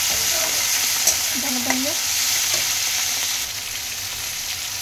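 Tomatoes with salt cook in a pan for an eggplant dish, giving a steady broadband sizzle and frying hiss throughout, with a brief voice speaking over it and a few light utensil clicks.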